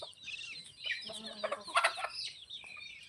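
Free-range desi country chickens and chicks on a farm cluck and peep in overlapping bursts, louder in the middle, close and continuous with no clear talk.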